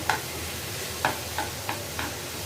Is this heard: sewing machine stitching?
no